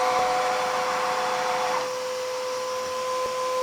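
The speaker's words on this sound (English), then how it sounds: "It's going to run a couple seconds to get all the water out up into the dirty water tank" A Bissell TurboClean 3548 wet dry vacuum runs in vacuum-only mode with the water flow shut off, a steady close whirring motor drone with a constant high tone and no talk.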